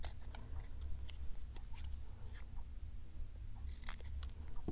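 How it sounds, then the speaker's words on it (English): Scissors snip through paper for a handmade file folder scrapbook album, a few quiet crisp cuts over a steady low background hum. "I'm going to cut off a little bit from both sides."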